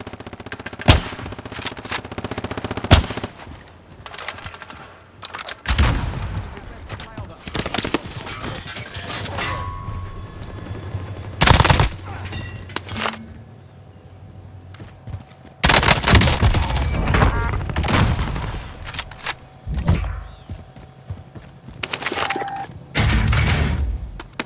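Gunfire in Call of Duty Warzone, with bursts of automatic fire and scattered single shots at varying distances, some loud and near, others fainter, in a busy game scene.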